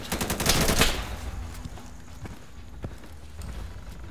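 Automatic gunfire in the video game Insurgency, a loud close burst of rapid shots at the start, then scattered distant shots and faint footstep-like thuds in the background.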